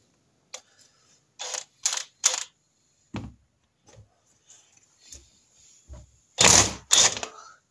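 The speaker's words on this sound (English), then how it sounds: "I've put a screw bit in the impact driver, so I'm hoping that will work okay." Impact driver working screws out of a Norton Commando engine crankcase during splitting, a series of short sharp mechanical bursts and clunks separated by quiet gaps, with a louder rattling burst toward the end.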